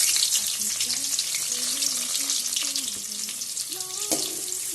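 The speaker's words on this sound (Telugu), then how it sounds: "బాగా ఫ్రై చేసుకోవాలి. ఆనియన్స్ అయితే వేగిపోయాయి కదా" Onions fry in hot oil with cinnamon and cloves for a curry, giving a continuous hissing sizzle with a faint, wavering voice-like tone underneath.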